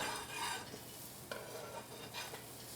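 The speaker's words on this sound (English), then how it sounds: "Since we have cut the vegetable, so we will do a stir fry" Cut vegetables stir-fried in a pan, a steady soft sizzle with scraping stirs and a couple of sharper utensil knocks against the pan, moderately quiet and close, with no talking.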